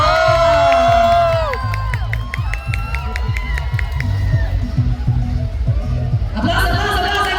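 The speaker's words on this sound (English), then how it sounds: "Applause, applause, applause, I can hear you!" A convention panel crowd at Kawaii Con Puerto Rico's 2025 Halloween Edition cheers loudly, with high whoops, shrieks and shouting over clapping that swells, dips and surges again near the end.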